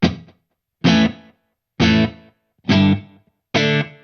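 Five distorted electric guitar chords strike at a steady pace through a short slapback delay, each ringing briefly with a single soft repeat before cutting off, separated by silence.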